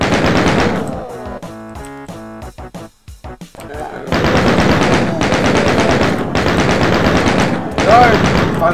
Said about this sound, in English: My mini gun.